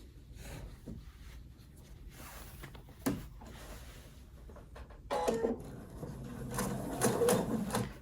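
A sewing machine stitches quilted fabric for a glasses case in short, quiet bursts separated by pauses, with a few faint clicks and handling noises in between.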